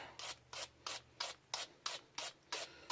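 A hand wire brush scrubs drill press chuck parts with 1/2-20 threads in quick, regular back-and-forth strokes, each a bright scratchy rasp, about ten strokes in three seconds, close and moderately loud.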